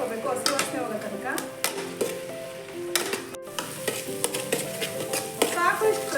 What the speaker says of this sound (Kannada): ಸ್ವಲ್ಪ ಫ್ರೈ ಮಾಡ್ಕೋಬೇಕು, ಹಸಿ ವಾಸನೆ ಹೋಗೋ ತನಕ.